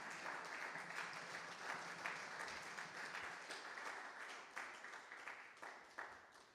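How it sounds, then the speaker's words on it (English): An audience claps in a round of applause at the MSA Finals 2021, a dense, steady patter of many hands that holds at a moderate, slightly distant level before gradually thinning toward the end. "Why don't you give them a round of applause?"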